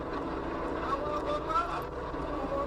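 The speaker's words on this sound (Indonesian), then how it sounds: "Udah mulai ada suara mesin." A machine engine drones steadily through a played recording, a low continuous rumble with faint wind-like hiss, while voices talk over it.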